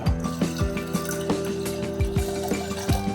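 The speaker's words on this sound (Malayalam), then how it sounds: "1/2 കപ്പ് വെള്ളം ചേർത്ത് കൊടുക്കണം." Water is poured from a half cup into a curry of ridge gourd with chilli powder, giving close, repeated liquid drips and splashes in an uneven rhythm.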